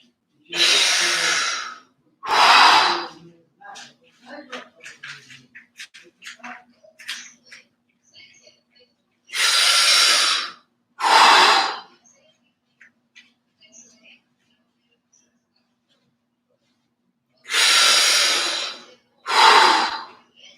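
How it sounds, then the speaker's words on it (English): Heavy breathing during a squat exercise comes as loud, close, forceful breaths in pairs, separated by long near-silent pauses with quiet voice sounds in between. "Every time you need to breathe, you go up."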